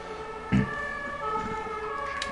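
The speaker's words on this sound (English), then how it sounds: "Sirens." A siren wails steadily in the distance over low road rumble, its tone holding for the whole stretch with a brief thump near the start.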